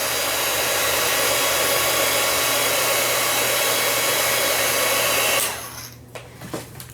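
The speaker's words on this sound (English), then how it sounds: "The dryer again, so plug your ears for just a sec." A hair dryer blows loudly and steadily for several seconds, then switches off, leaving a few faint clicks and handling sounds.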